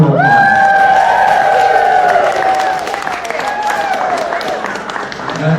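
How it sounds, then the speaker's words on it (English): A crowd at an art exhibition opening at the Rockport Center for the Arts claps and cheers. Sustained sung voices ring out at first, then a dense patter of clapping with whoops continues loudly to the end. "How about a round of applause?"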